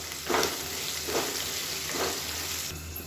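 Vegetables sautéing in a pan for hotel-style ground-masala sambar, a steady soft sizzle with a few stirring scrapes recurring about once a second, close and alone.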